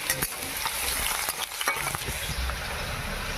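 Onions and chopped garlic fry in a pan while being stirred, a loud, close, steady sizzle broken by scraping strokes of the spoon.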